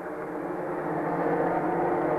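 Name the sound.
stock race cars on the track, one engine failing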